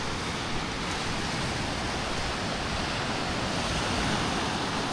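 Steady broadband roar of sea waves and surf on the shore near a lighthouse in Baler, continuous and fairly loud, with some wind noise and no talking.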